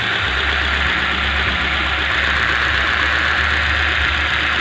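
A Hyundai i20 engine idles unevenly with a misfire on one cylinder, giving a steady, close, rough low rumble with a slight knocking shake throughout and no talking.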